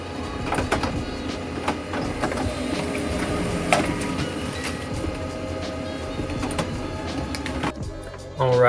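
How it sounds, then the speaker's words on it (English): An HP LaserJet Pro MFP M227fdw mono laser printer runs a print job, giving a steady mechanical whir with scattered clicks and rattles over several seconds, then a sharper shift in sound as the page feeds out at the end. "the printer completed the task in about 14 seconds"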